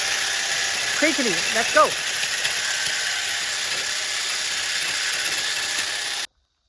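A 60 V lithium brush cutter keeps running after cutting wood, holding a steady, high mechanical whine throughout, with someone speaking briefly near the start before it cuts off abruptly.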